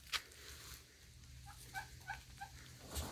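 A turkey let out into a papaya orchard gives a few short, faint gobbling calls in a quick series, set against an outdoor background with a sharp knock at the start and another near the end.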